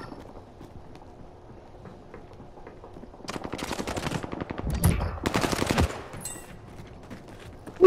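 Rapid machine-gun bursts crackle in a Call of Duty: Modern Warfare firefight, breaking out after a quiet stretch and rattling loudly for a few seconds before stopping.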